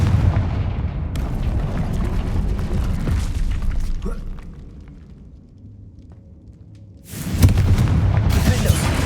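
Confringo fire spell blasts in Hogwarts Legacy, heavy booming explosions within a dense rumbling battle din, fading to a quieter lull before another loud burst erupts near the end.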